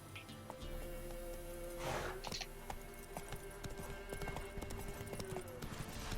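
Steady, rhythmic hoofbeats of a galloping horse in The Witcher 3 continue throughout, with a faint background hum and a brief snort or breath partway through.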